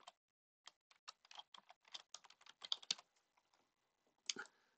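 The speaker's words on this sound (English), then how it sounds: "And a password, you can type in whatever password you want." Password typed on a computer keyboard during a vCenter 8 installation: a run of quick, irregular key clicks, fairly close and crisp, with a short pause and then a final sharper keystroke near the end.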